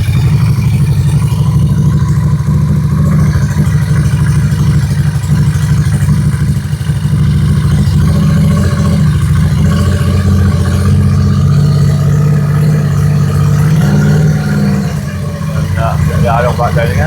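A Honda NTV650 motorcycle engine runs at a raised idle, a loud, steady low throbbing drone that stays constant throughout, with someone talking over it.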